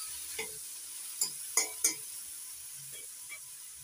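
Green tomatoes are stirred with salt in a pan, a few sharp spatula scrapes and knocks against the pan over a low, faint sizzle.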